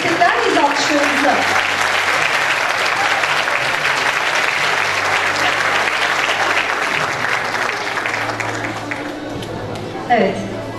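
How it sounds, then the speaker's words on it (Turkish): A hall audience at an award ceremony gives sustained, dense applause for the winning writers, loud and continuous with a faint murmur of voices underneath. "Yazarlara destekler miyiz alkışlarımıza?"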